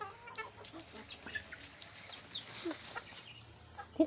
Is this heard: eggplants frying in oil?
no